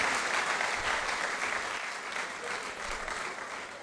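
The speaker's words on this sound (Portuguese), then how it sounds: "mais uma salva de palmas para este jovem" Audience applause at a UNITA parliamentary group event in Angola rises as a dense, steady wash of clapping from a large crowd, holding strong for several seconds with no talk over it.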